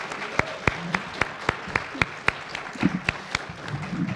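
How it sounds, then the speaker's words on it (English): Sparse, sharp claps from a small audience for panelists, several distinct hand claps spaced irregularly with faint murmuring between them. "give a round of applause for our wonderful panelists"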